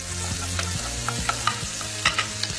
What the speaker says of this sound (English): I want that bacon to get really nice and crispy. Bacon in.